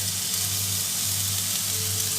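Chopped prawns sizzle with softened vegetables in a pan, a steady close frying hiss over a low continuous hum, with no talk.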